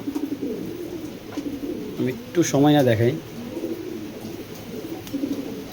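A male racing pigeon gives one soft, rolling coo in the middle while a person talks quietly before and after it, indoors.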